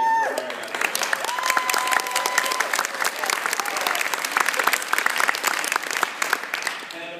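An audience applauds at a Printz award ceremony, a dense, sustained wash of clapping lasting several seconds at fairly even loudness, with faint voices mixed in underneath.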